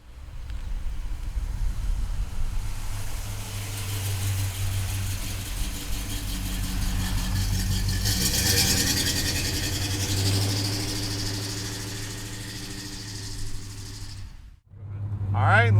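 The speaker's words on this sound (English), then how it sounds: "Beautiful car, great sounding exhaust on this baby." A 1969 Chevrolet Chevelle's engine and exhaust drone steadily under way, a deep throaty rumble that swells as it accelerates, then cuts off briefly before the engine picks up again.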